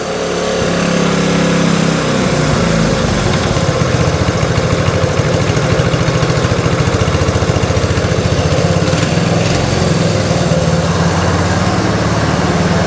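A 1966 Honda S90 motorcycle engine idles steadily throughout after a no-spark fault is fixed, a continuous low putter with a faint irregular rhythm, close up and loud, no talking.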